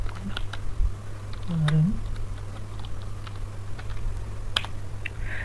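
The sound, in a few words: typing a command on a computer keyboard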